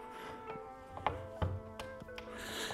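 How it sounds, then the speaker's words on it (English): Center bolt of a Variomatic propeller being loosened with a tool, giving a few soft ratcheting clicks and metallic taps spread over a couple of seconds, close by and fairly quiet, with no talk. "remove the center bolt that holds the whole assembly together"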